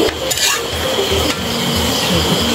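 Spicy chicken adobo with vinegar and dried chili stirred in a pan, a steady sizzle with repeated scraping strokes of a utensil against the metal, close and continuous with no talking.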